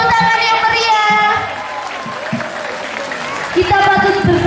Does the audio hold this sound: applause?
yes